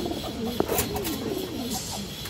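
A pair of red chuli pigeons, an old pure-colour breed, coo steadily with a low rolling call, close and clear over faint background noise, with no talk.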